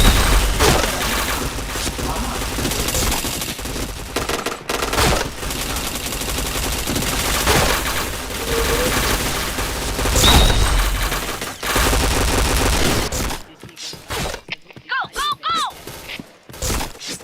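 Rapid automatic gunfire and bursts of shots crackle continuously in a Point Blank online shooter match, loud and sustained before dropping to a few sparse effects near the end, with a player talking over parts of it.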